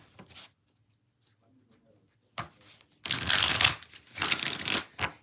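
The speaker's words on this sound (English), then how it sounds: "We're going to do 6 shuffles with the trusty dusty Rider-Waite" A Rider-Waite tarot deck is shuffled in close, loud bursts of riffling card noise, with quieter handling and a faint voice before the main shuffles.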